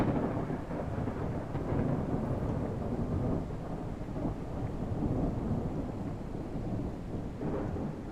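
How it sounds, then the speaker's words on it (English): Thunder rumbles through a lightning storm in the video game Airport Renovator, a steady, loud roll of low booming that fills the whole stretch with rain-like hiss and no speech. "oh, we got lightning strikes in the background."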